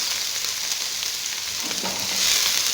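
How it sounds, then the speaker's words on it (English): Broccoli stir frying in a pan over very low heat, giving a steady bright sizzle close by that swells slightly near the end, with no talking. "I'm going to add the broccoli. And I'm going to cook under very low heat."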